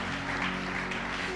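A church congregation applauds to acclaim Jesus, with steady dense clapping from a crowd that fills the room and carries on evenly throughout.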